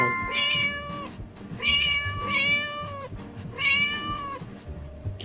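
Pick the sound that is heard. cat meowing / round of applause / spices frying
cat meowing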